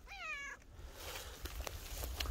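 A cat meows several times in quick succession at an abandoned house in a remote mountain village, close and clear, followed by quiet outdoor rustling and footsteps.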